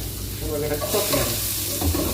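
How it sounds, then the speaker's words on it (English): Garlic and onions stir-frying in a pan for a vegetable dish, a steady close sizzle with stirring scrapes running throughout, with no talking. "So now we're gonna start stir frying. We're gonna add in our garlic, our onions."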